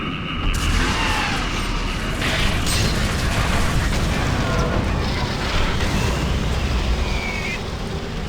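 Rocket launcher explosions in the video game Doom 3, dense rumbling blasts and mechanical clatter filling the whole stretch loudly and continuously, with some talk mixed in.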